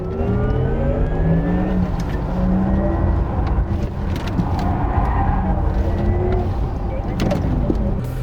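A synthetic sports engine sound from a Porsche Taycan 4S electric car hums and rises under a person talking, steady and close, with a droning, revving character.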